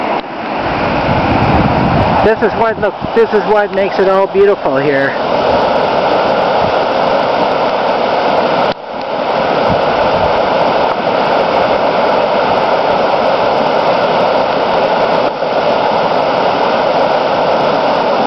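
Seguin Falls on the Seguin River pouring down, a steady broad roaring rush heard close up; someone talks briefly near the start over it.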